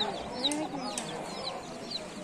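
Chickens clucking at a busy poultry market stall, with short repeated calls over a constant crowd murmur and voices nearby.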